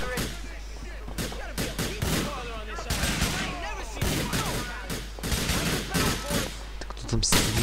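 Rapid, dense gunfire from the video game Grand Theft Auto IV, with bursts of shots cracking repeatedly in close succession alongside shouting voices.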